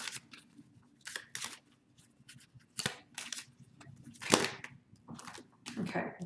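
Tarot cards being shuffled by hand, a series of short, crisp riffling and slapping bursts spaced irregularly, close and fairly quiet, with brief pauses between shuffles.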